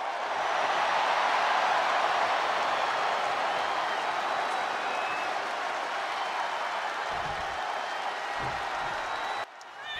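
WWE 2K23 arena crowd at a capacity event, a broad steady roar of cheering and applause sustained throughout, dipping slightly near the end.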